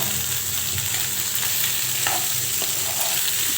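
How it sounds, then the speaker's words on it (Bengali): Boiled pasta sizzles steadily in a hot pan while being mixed with spices, a constant frying hiss with occasional soft scrapes and clinks of stirring close by. "সব কিছু সুন্দর করে মিক্স করে ভেজে নেব।"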